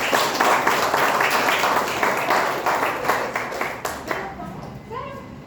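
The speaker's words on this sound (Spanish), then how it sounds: "Aplaudamos a sus compañeros." Students in a clinical therapeutics class clap for their classmates, a dense, lively round of hand claps that gradually thins out, with voices audible beneath and after it.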